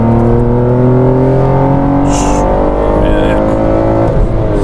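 A BMW M3 E46 straight-six engine revs loud and close, its pitch climbing steadily across the whole stretch with a harsh, continuous roar and no pause.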